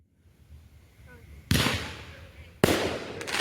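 Two sharp fireworks blasts at an Independence Day show ring out about a second apart, each a loud crack that decays slowly, following a quieter buildup.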